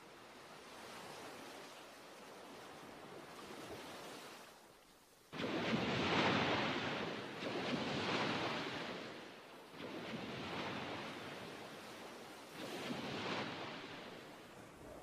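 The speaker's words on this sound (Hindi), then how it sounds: "यह समंदर है फ्लावर।" Sea waves in an anime film, a steady wash of surf that swells and recedes in several broad surges, moderately loud with no speech over it.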